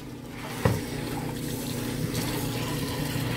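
Cool tap water running over dyed bamboo yarn as it is rinsed, a steady close rush of flowing water with a single brief knock near the start.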